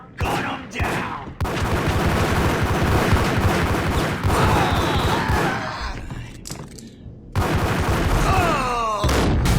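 Dense gunfire in the Max Payne video game, loud rapid bursts and booming shots running almost continuously, broken by a couple of short pauses, with ricochet-like whines and echoing tails between volleys.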